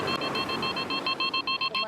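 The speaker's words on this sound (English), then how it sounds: "If we don't complete the delivery within the time, it keeps beeping" A shrill electronic warning beep from a delivery app repeats in a quick, steady rhythm over a noisy background, each short tone sounding again and again without pause.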